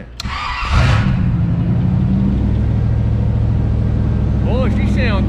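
An old 1980s car engine cranks, catches and settles into a loud, close, steady rumbling run with a brief rev. A voice chimes in near the end.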